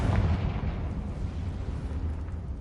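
Confringo fire-blast spell from Hogwarts Legacy, a sustained rumbling explosive roar with heavy low-end booms lasting throughout, loud and close with no talking.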